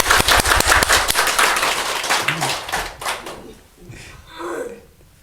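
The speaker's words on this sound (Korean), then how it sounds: "우리 다 같이 부활하신 예수님께 영광의 박수를!" A church congregation at an Easter service bursts into loud, dense applause that thins into scattered claps and fades out after about three seconds, with some murmuring at the end.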